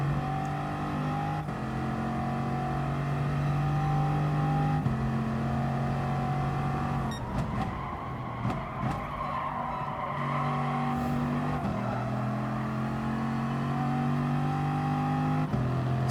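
Bugatti Veyron race cars in GT Sport, running an all-Veyron race at Lago Maggiore: a steady, loud engine drone that rises and drops with gear changes, with a stretch of tire skidding partway through.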